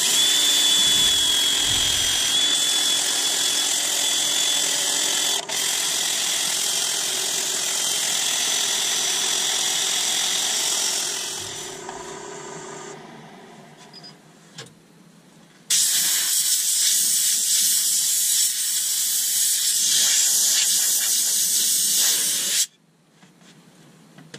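Sapele wood plate spun on a lathe while being sanded, a steady loud broadband hiss that drops away partway through, then returns just as strongly before cutting off abruptly.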